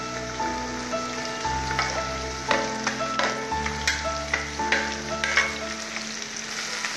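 Carrots, potatoes and long beans fry in a little oil in a pan, giving a steady close sizzle dotted with sharp crackles and pops throughout, with no talking.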